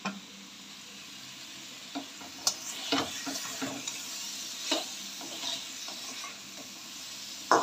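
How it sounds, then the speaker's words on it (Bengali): Cauliflower pieces frying in a pan give off a steady low sizzle, broken by occasional stirring scrapes and light clinks of a utensil against the pan, close and fairly quiet. "ফুলকপিগুলো ভেজে নেব।"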